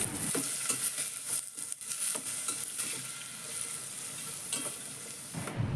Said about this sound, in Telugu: ఒక పెద్ద ఉల్లిపాయని చిన్న ముక్కల కింద కట్ చేసుకొని 2-3 పచ్చిమిర్చి చీలికల కింద కట్ చేసుకొని వేసుకొని ఫ్రై చేసుకోవాలి